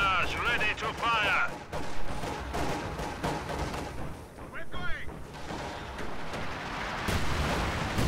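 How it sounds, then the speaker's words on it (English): Incendiary artillery barrage in Company of Heroes 2 rumbles as a dense wash of booms and crackling fire under game voices, with gunfire and explosions layered throughout. "Incendiary artillery barrage ready to fire."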